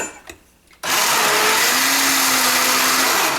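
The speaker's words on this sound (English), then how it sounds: "I'll bring it back when I've got it all pureed or stick blended" A stick blender purees cooked milk for soap making, starting abruptly after a brief quiet moment and then running as a loud, steady, close motor whine to the end.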